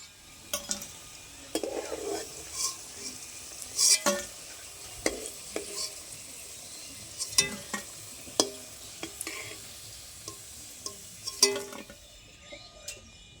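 Onion-shoot pakoras deep-frying in hot oil until reddish-brown give a steady low sizzle, broken by scattered sharp clinks and scrapes of a utensil against the pan.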